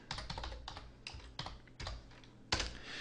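Brisk typing on a computer keyboard, with clusters of close, soft clicking keystrokes in short bursts and a louder flurry near the end, heard without speech.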